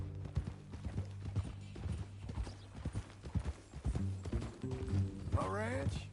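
Horse hooves clip-clop in a steady walking rhythm in Red Dead Redemption, close and fairly quiet, with a short neigh near the end.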